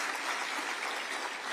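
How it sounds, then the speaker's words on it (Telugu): Steady, dense clapping from a crowd at a BRS party cadre meeting in Kukatpally, applauding former corporators in a short, even burst. "వారికి ఒకసారి గట్టిగా చప్పట్లు కొట్టాలని చెప్పి నేను కోరుతా ఉన్నా"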